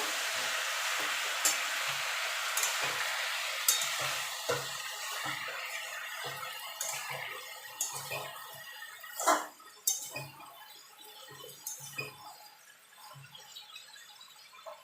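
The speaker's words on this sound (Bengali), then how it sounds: "আবার নেড়ে দেবো" Mixed vegetable curry seasoned with Kashmiri chilli powder sizzles steadily in a pan while being stirred, with scraping ticks and clicks from the spoon recurring close up throughout, and no talking.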